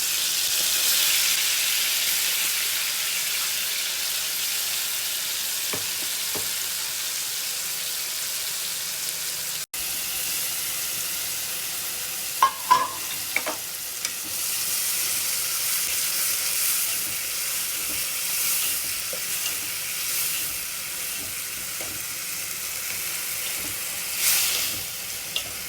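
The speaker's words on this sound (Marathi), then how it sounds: "आता यामध्ये तेल टाकूया आणि त्याला ठेचायला त्याच्यात व्यवस्थित तळून घेऊया." Crushed Maharashtrian thecha frying in oil, a continuous soft hiss of sizzling with occasional louder crackles and bursts as it is stirred, steady and close over the whole stretch.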